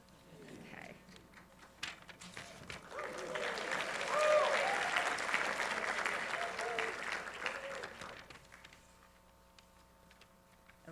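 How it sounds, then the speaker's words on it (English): Audience applause at a spring graduation ceremony in a nearly full room. The clapping builds from scattered claps into a loud, sustained ovation, then thins and fades, with voices audible around it. "Whooping, loud clapping, anything like that is very much encouraged."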